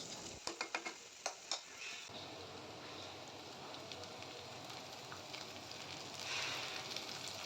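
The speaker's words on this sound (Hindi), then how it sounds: "इन सबको सौटे होने देना है कुछ देर तक" Onions, potatoes, peas and curry leaves sauté in oil for vegetable vermicelli, with a few sharp stirring taps at first, then a faint, steady sizzle that swells slightly toward the end.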